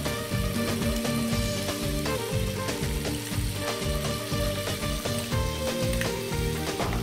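Squid rings sizzle in a hot pan while being stirred, making a steady frying hiss broken by rhythmic scraping and clattering.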